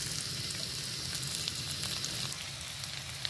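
Onions and green chillies frying in oil in a wok for a Bengali fried-egg curry give off a steady, close sizzle with a soft crackle, continuous and even throughout with no talking over it.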